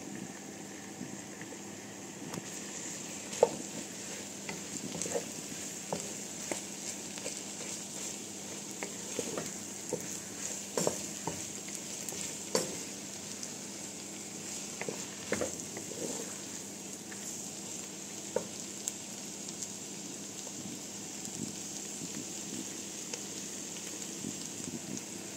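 Soft, steady sizzling of garlic and tomato sautéing in a pan, with occasional light clicks and stirring taps, fairly quiet and continuous.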